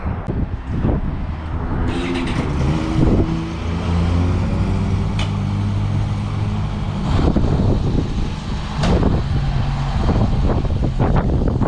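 A Suzuki GSX-R1000 motorcycle engine rumbles close by, its revs rising and falling as it pulls away on a ride, with a few clunks and passing bumps along the way.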